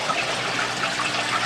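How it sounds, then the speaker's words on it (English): Koi pond water pumped by power heads gushes into an upflow filter system, a steady close splashing and rushing flow with no voices. "Shooting the water into that upflow system in the back"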